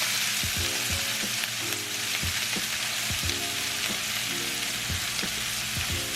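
Japanese-style hamburger patties fry in a pan over medium-low heat with a dense, steady sizzle and crackle, plus scattered pops and occasional soft clinks, close up and without voices.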